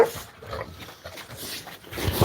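Dogs being let out of a pen where chickens are kept, heard as a steady restless scuffle with whimpers, pants and soft yips from a few dogs at close range.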